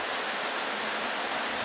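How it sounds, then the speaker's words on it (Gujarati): Heavy rain pours steadily on a farm, a dense, even hiss of falling water filling the whole short stretch with no voices. "આજે વરસાદ આપણે સારો આવી ગયો છે ને જે ચાલુ જ છે."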